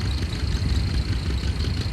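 A 1954 Brockway tractor hitched to the Eliminator pulling sled at a farm-days tractor pull sends out a steady, rumbling, low engine drone, close and loud throughout.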